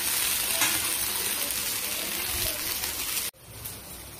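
A thin rice crepe (ghavane) sizzles on a hot pan after being flipped, with a dense, constant close-up crackle that ends in a sudden soft clunk and quieter hiss.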